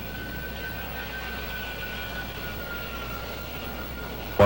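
Bomb-laden A-6 jet aircraft on an aircraft carrier deck produce a steady, loud engine roar and high whine, a constant wash of noise with no break.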